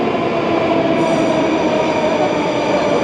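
A D-model Moscow Metro carriage runs through a tunnel, a loud continuous roar with a rising whine and faint squeal of wheels, heard close from inside the carriage without talking.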